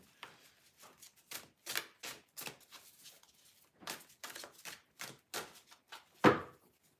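A rapid run of crisp flutters and slaps, like cards being shuffled and riffled near the microphone, with brief pauses between bursts.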